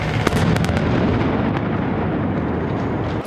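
Explosion from a Hollywood film shoot in the Chapinero neighborhood of Bogotá, a loud, continuous booming roar with a few crackling pops that slowly fades over a few seconds.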